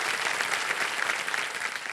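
A studio audience at the Kaun Banega Crorepati quiz show applauds to welcome guests, a dense, steady round of clapping from many hands with no speech over it.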